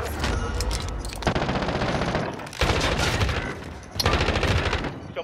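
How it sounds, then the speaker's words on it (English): Sustained automatic gunfire in a video game shooter firefight, dense rapid bursts in loud continuous volleys with brief breaks between them, close and dominant. "Taking fire!"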